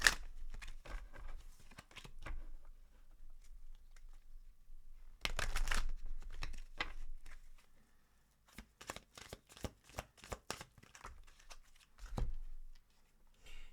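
Moonology oracle cards being shuffled by hand, soft papery riffles and slides in several short bursts separated by near silence, close and quiet.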